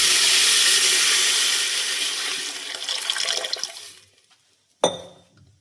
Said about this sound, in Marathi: त्यानंतर आता पाणी टाक.